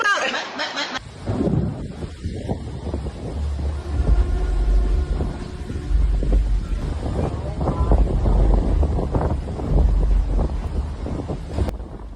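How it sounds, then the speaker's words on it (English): Violent tornado wind tearing through an urban area under heavy clouds, a loud, continuous roaring rush with heavy buffeting on the microphone and rumbling low-end turbulence, a brief sharper burst at the start. "Violent wind funnel tore through urban areas, ripping structures apart under heavy clouds."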